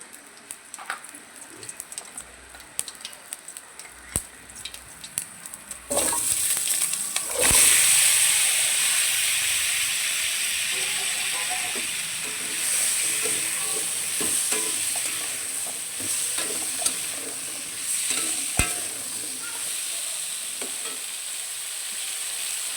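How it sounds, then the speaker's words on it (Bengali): Vegetables frying with a little panch phoron in hot oil in a kadai, a steady loud sizzle that jumps up sharply after a quieter start and then crackles on continuously, with occasional stirring clatter. "তেলটা গরম হয়ে গেছে, এর মধ্যে অল্প পাঁচফোড়ন দিয়ে সবজিগুলো ভেজে নেব"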